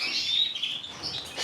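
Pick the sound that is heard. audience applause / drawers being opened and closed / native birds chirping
native birds chirping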